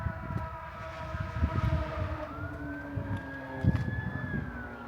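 A police siren wails with a steady, slowly rising tone as officers chase a motorcycle near a city lake park in Gentry. It sounds moderately distant over low outdoor rumble and footstep-like thumps.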